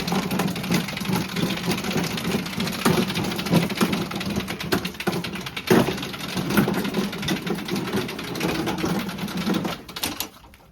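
A roughly 13-year-old lawn edger with a newly replaced carburetor and blade runs rough, giving a steady, close engine drone with an uneven rattle for about ten seconds before fading out at the end.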